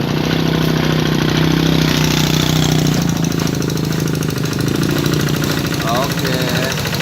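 A tractor engine runs steadily while plowing a rice field, loud and close with a constant low rumble and knocking throb throughout, and muffled voices talk faintly over it.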